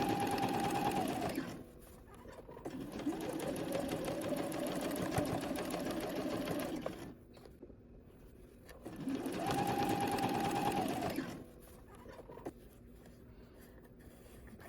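Sewing machine running in two long steady bursts as it edge stitches fabric, a fast even whirring patter, close and clear, with quieter gaps between the runs.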